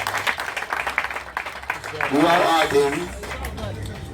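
Scattered audience clapping at an APC Movement for Change political meeting in Amuwo Odofin, Lagos, fading into crowd murmur as a voice speaks over it near the middle.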